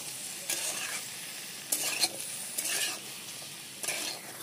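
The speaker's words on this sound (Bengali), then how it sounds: "এবার এর মধ্যে দিয়ে দেব কেটে রাখা কাঁচা টমেটো, সিম দিয়ে সব ভালো মতো একসাথে ভেজে নেব।" Raw chopped tomato and flat beans are stir-fried together in a pan for vegetable pulao. A soft, even sizzle runs underneath, broken by several distinct scraping strokes of a spatula at irregular intervals.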